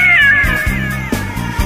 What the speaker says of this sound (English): staring you face to face in the mirror is a cat